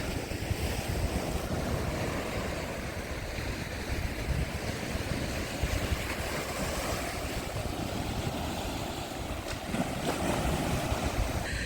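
Sea waves wash ashore at Fontanka near Odesa in late October, a constant broad roar of surf mixed with heavy wind buffeting the microphone, with no speech.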